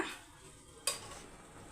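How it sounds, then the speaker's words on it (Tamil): Coconut milk poured into a simmering prawn and drumstick curry and stirred: a soft, quiet sizzle with one sharp clink of a spoon against the pan partway through. "தேங்காய் பாலை ஊற்றிட்டு அப்படியே மிக்ஸ் பண்ணிக்கோங்க"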